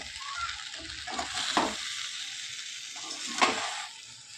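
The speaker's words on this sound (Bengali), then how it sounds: "দেখো আস্তে আস্তে নাড়তে হবে।" Amla pickle is stirred slowly in an overfilled wok, with a soft background sizzle broken by a few scraping, squelching strokes of the spoon, close and without speech.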